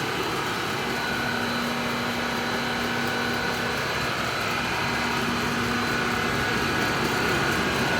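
Rebuilt Eddy Giant huller running with its belts spinning under expanded metal, giving a steady, even mechanical hum with a faint high whine throughout, no talking.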